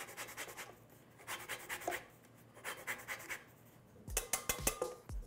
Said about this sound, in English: I'm adding the zest of 2 navel oranges